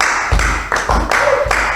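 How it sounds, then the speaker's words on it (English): Hand claps at a rhythm games workshop, four sharp close claps at an even, deliberate pace, each with a brief room ring. "Just the claps."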